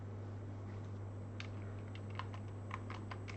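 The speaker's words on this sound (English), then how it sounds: "pressing additional keys doesn't do anything." Keys pressed on a computer keyboard while coding a sliding puzzle game in Zig, a scattered handful of soft clicks over a steady low electrical hum, fairly quiet and close.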